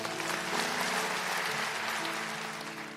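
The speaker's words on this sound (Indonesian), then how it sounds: "kasih tepuk tangan untuk Tuhan" A church congregation at a Sunday service claps together in steady applause, broad and sustained, with tonal music or organ sustaining beneath it before the clapping thins slightly toward the end.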